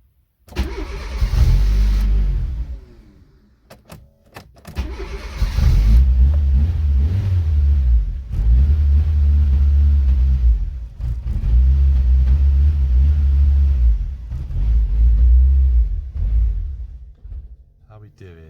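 A Fiat Cinquecento turbo engine runs close by, its idle rising and falling through several revving bursts, with one brief drop near the start before it catches again and keeps going strongly.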